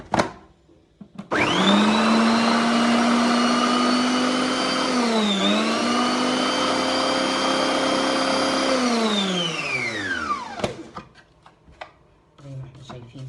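A kitchen blender grinds garlic, pepper, cumin, salt, chili and lemon, its loud motor whine starting abruptly, holding steady with a brief dip in pitch, then winding down and stopping, with a few clatters around it.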